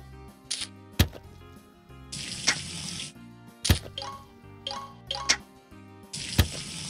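Plants being watered in the Battle Ranch video game, heard as short splashy bursts of water and sharp clicks, spaced a second or so apart, clear and close with no voice over them.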